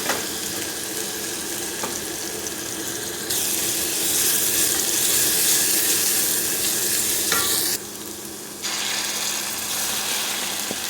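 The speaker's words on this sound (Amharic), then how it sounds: "ትንሽ ዘይት አድርጋለሁ እዚህ ጋር ታዩት። ነጭ ሽንኩርት እንጨምራለሁ።" Garlic fries in oil with tomato paste for a potato and meat kofta dish, a loud steady sizzle that swells for several seconds as the pan is stirred, then briefly dips and rises again.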